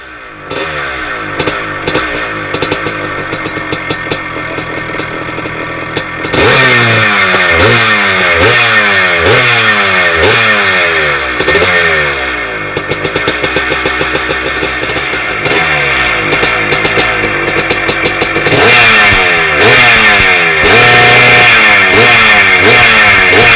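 A classic 250 Michael Spider dirt bike engine kicks into life, then revs hard in repeated loud, rasping bursts, blipping the throttle up and down close by with a steady idle clatter underneath.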